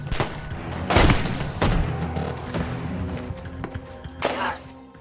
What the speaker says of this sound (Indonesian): Kemudian baku tembak pun terjadi